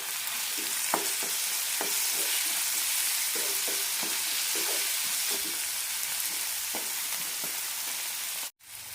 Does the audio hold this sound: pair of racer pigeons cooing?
no